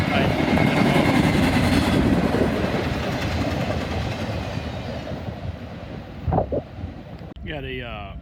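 A westbound intermodal freight train rolls past at Oak Harbor under slow orders, a loud, steady rumble with clickety-clack of cars and wind buffeting the microphone, and a voice speaking briefly near the end.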